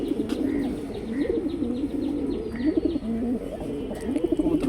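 Giribaz pigeons coo repeatedly in low, throaty rolling calls, several birds close by and overlapping, with a few faint chirps in the background.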